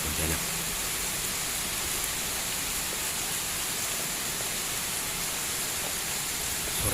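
Heavy rain pours down on a Pantak statue in Pontianak, a dense, steady hiss that stays constant and fairly loud from start to finish, with no voices.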